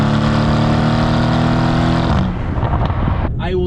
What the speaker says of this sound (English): It's fun to downshift like the Germans. And of course get the nice backfire.